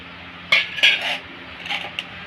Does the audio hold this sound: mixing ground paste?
yes